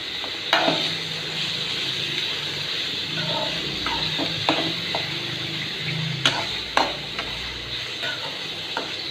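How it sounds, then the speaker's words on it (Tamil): Broiler chicken pieces, washed with turmeric powder, fry in a little oil in a pan, giving a steady close sizzle broken by several sharp stirring clacks and scrapes. "முதல்ல சிக்கனை பொரிச்சு எடுத்துக்கலாம்."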